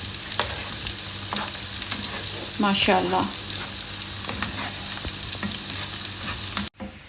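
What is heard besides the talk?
onion and garlic frying golden in a pan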